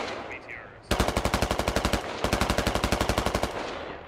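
Automatic gunfire in the Squad video game, a loud close-range machine gun firing two long rapid bursts after a brief quieter moment.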